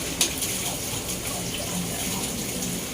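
Water at a rolling boil in a cooking pot for chicken tinola, a steady bubbling wash of sound that runs close and even through the whole stretch, with one brief sharper splash near the start.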